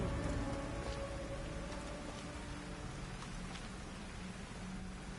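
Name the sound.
storm rain in video game Odyssey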